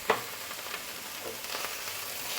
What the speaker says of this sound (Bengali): আমার পেঁয়াজটা ভাজা হয়ে এসছে, আর একটা সুন্দর গন্ধ বেরিয়েছে।